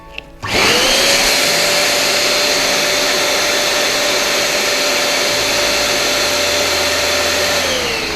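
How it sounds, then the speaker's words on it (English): A latex balloon being inflated, probably with a hand or electric pump, giving a loud steady whooshing air rush that starts abruptly and holds evenly for several seconds. "Let it down, and then inflate it again."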